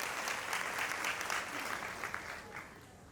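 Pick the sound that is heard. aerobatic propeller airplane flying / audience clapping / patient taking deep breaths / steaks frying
audience clapping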